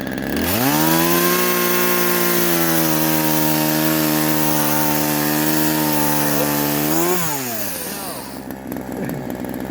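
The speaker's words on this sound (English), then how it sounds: "Let the weight of the saw just drop down through." A chainsaw cuts through wood, its engine roaring loud and close in a long steady whine with the pitch holding level, then dropping sharply as the cut ends and the saw idles down.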